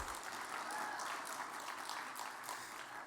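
Sustained applause from a large audience at the Voice Awards ceremony, an even, continuous roar of clapping heard at a distance with no speech over it.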